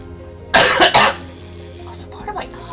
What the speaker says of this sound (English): Also part of my cough.